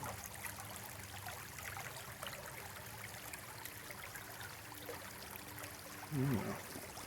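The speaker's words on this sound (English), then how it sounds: "This is the other brook here." A woodland brook flows steadily with a soft, fairly faint trickling wash, and a brief louder thump or voice-like burst near the end.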